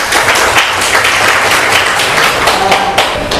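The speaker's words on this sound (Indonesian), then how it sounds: "Beri tepuk tangan." Classroom applause from students after a poetry lesson: loud, dense, continuous clapping close by, filling the room evenly with no voices on top.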